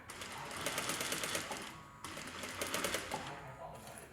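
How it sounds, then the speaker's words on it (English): A sewing machine stitching a pillow cover along a zipper, running in two steady rapid bursts with a brief pause between, close and moderately quiet. "So I'm going to sew along here"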